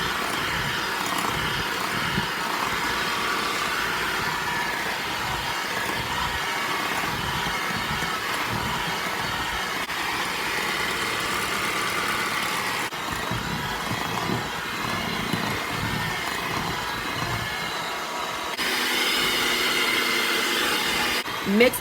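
An electric mixer whirs steadily while beating powdered sugar into strawberry cream cheese frosting, a continuous buzzing motor drone that shifts slightly in tone partway through and rises near the end.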